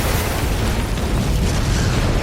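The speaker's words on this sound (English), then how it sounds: "an explosion rocks the building" A film-scene explosion inside a church, heard as a loud, sustained deep rumbling roar with dense low-end energy lasting throughout, alone without voices.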